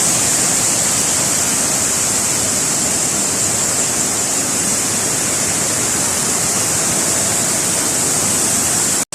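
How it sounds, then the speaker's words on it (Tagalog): Vera Falls in Bicol roars with strong rushing water, a loud, steady, dense white-noise torrent heard up close for the whole stretch, cut off abruptly at the end. "Malakas yung tubig."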